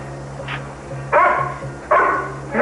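A dog barks in short bursts, three sharp close barks spaced about a second apart after a softer yip, with a faint low hum in the background.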